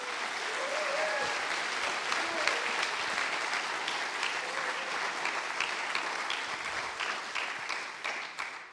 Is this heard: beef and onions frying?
no